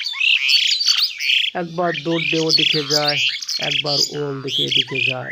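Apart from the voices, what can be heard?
flock of birds chirping on a rooftop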